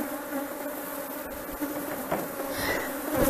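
Swarm of Apis honey bees buzzing as they gather below a hive, a dense, continuous drone at moderate level with occasional closer bees passing near.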